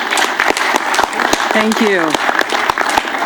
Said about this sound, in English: Could you join me in a round of applause?